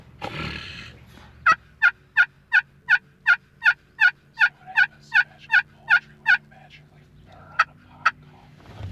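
A wild turkey gobbler gobbles in a rapid series of about fifteen sharp, evenly spaced calls, then two more after a pause, fairly close, during spring in Massachusetts.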